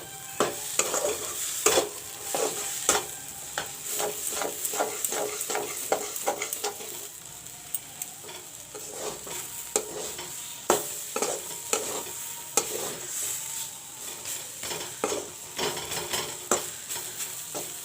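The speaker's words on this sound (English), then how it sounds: "Now I'll fry the mashed peas till it's dry." Mashed peas frying dry in a pan for paratha stuffing, with a soft sizzle under repeated quick scraping strokes of a spoon that continue rhythmically throughout.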